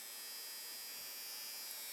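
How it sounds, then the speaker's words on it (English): A small battery nose and ear hair trimmer runs with a faint, steady high-pitched electric whine and buzz, close by and continuous. "This is a nose hair trimmer or ear hair trimmer."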